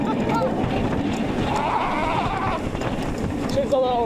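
The Kraken floorless roller coaster at SeaWorld Orlando rumbles along its track under strong wind rush, with riders' voices and cries mixed in.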